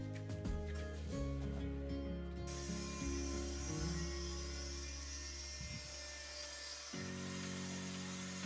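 A power tool, an angle grinder or jigsaw, cuts quartz vinyl click-lock flooring near a door, a loud close whining, grinding mechanical drone that shifts pitch as the blade bites, continuous throughout.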